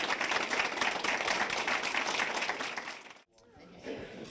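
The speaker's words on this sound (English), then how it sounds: "How about a round of applause for our two candidates?" A crowd at a candidates' forum applauding steadily for about three seconds, dense and full, then breaking off abruptly as a quieter murmur follows.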